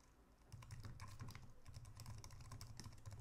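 Code is typed on a computer keyboard in rapid, continuous clicking that runs for about three seconds, close up and fairly quiet, with no talking.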